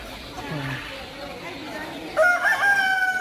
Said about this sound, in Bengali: এই বাজারে হাঁস মুরগি এবং হাঁস মুরগির বাচ্চা,